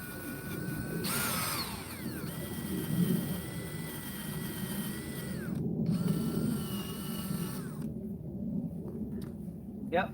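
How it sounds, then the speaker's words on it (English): A wire brush on a power tool scours rust from metal, a steady grinding drone with rising and falling pitch sweeps and brief pauses where the tool eases off, close and loud throughout. "it's just a wire brush sending shards of little freaking rust particles and metal everywhere"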